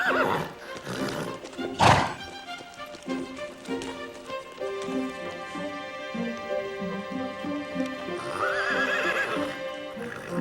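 A riderless horse arrives with steady clip-clopping hooves and loud whinnies, the neighs ringing out near the start and again at the end over a background of music.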